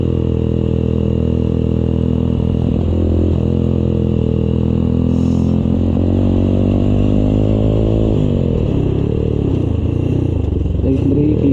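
Motorcycle engine on a solo ride through Bataan's winding hairpin roads, a loud, close, sustained drone whose pitch climbs and dips as the rider revs and eases off, with no talking.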